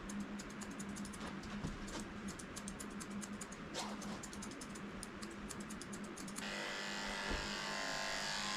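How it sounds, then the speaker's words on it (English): Electric clippers fitted with a 10 blade trim a young Australian Shepherd puppy's coat, a steady close buzzing hum running throughout with slight shifts in tone, growing a little brighter near the end, with no talking. "I'm using a 10 blade just to shave her a little potty path back here."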